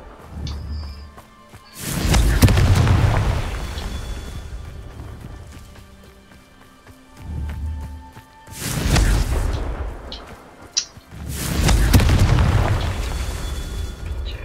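Confringo blasting spell explosions in the video game Hogwarts Legacy: three loud, deep booms with rumbling tails, spaced several seconds apart, plus a smaller thud between them over quiet background.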